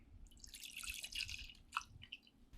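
About two ounces of whiskey trickles into a glass holding honey, a soft, faint splashing and dripping pour with small gurgles near the end.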